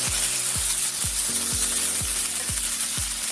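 Onion and garlic paste sizzle with rice in a hot pan during stir-frying, a loud continuous hiss broken by regular scraping strokes of a utensil about every half second.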